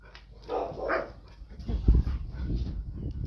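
Several dogs bark and yip at a stranger driving onto their property, a delivery truck bringing wood chips, the barks close and excited, bursting in an uneven run with whimpering notes.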